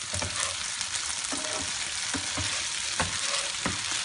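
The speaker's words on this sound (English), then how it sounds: "I have been shallow frying the tofu for 4 minutes now." Tofu shallow frying in oil sizzles loudly and steadily, a dense continuous crackle close to the pan, with a few soft knocks and pops as the pieces are turned.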